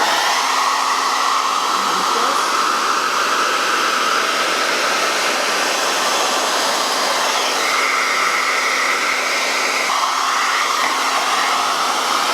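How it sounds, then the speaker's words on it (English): Hair dryer blowing during an at-home blowout, a loud, steady whooshing roar with a constant motor whine, running without pause throughout and shifting slightly in tone as the airflow moves. "hair dryer on."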